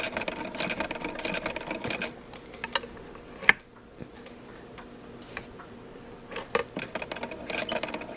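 A sewing machine stay-stitches the edges of handwoven backstrap fabric for a pullover vest. It runs in a steady close whir, pauses with a couple of sharp clicks, then starts up again.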